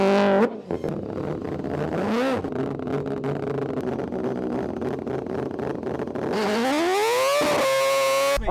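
Mad Mike's Mazda RX7 race car, a flame-throwing rotary drift machine, screams at high revs. The engine holds a loud, buzzing pitch with dips and rises, then climbs in a long rising sweep near the end.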